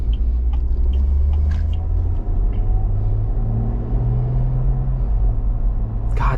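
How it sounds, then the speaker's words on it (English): The inline-six engine of a 2024 Ineos Grenadier SUV hums and rumbles steadily while driving, a deep, loud drone with a smooth tone that rises slightly in pitch. "that inline 6 just sounds really good"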